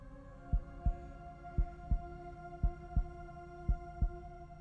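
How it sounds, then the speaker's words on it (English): Heartbeat in the video game Devil's Hideout: a slow, steady series of about eight deep, muffled thumps over a low droning hum, with no voices. "Can you hear her heart beating?"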